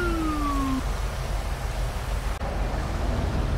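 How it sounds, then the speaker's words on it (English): A police vehicle siren in the GTA 5 video game wails loudly with a falling tone for under a second, then cuts off, leaving steady engine and road rumble. "Let's go ahead and turn off our siren."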